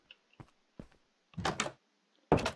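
A Minecraft door triggered by redstone in the video game, giving a few short, separate clicks and thunks followed by two louder wooden clunks as it swings open and then shut, with no talking.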